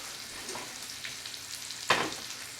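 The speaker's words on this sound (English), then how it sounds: "Got a nice little sizzle going on there." Salmon fillets sizzle in a frying pan with a soft, steady hiss and one sharper pop or spatter near the end.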